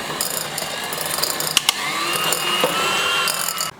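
An electric mixer whirs steadily up close while beating banana bread batter, a continuous high motor drone with a few sharp clicks and rattles.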